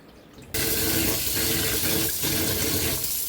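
Rice for idli being rinsed, with water pouring and splashing continuously at close range after a brief quieter start; no voices are heard.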